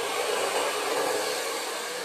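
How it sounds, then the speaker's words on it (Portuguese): A handheld hair dryer blows steadily on its maximum setting, a loud, continuous close-up whoosh that holds an even level throughout with no talking. "deixa eu pegar aqui o secador"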